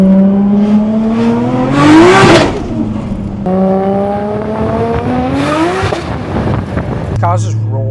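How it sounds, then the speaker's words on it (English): A 600HP Nissan R32 Skyline engine revs loudly, climbing and falling twice in long sweeps with a strong gearbox whine, heard close up from inside the car before it drops to idle. "just the gearbox whine is fucking ridiculous on this car"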